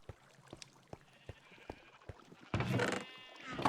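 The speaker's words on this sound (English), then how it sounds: "Yep, yeah, I hear the sheep" A sheep bleats loudly near the end in Minecraft, on a wool farm, after a stretch of quieter scattered clicks and soft background sounds.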